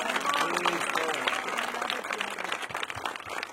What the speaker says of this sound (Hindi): एक ताली और बजाओ